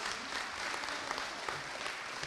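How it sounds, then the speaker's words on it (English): Audience applause at a senior awards ceremony: steady, dense clapping from a crowd that holds at an even level for the whole stretch, with no voices over it. "Give her a round of applause."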